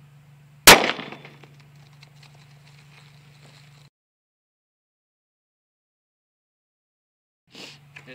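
A single loud, sharp gunshot fired at golf balls cracks near the start, followed by a short ringing decay and a steady low hum that cuts out, then faint movement noise near the end.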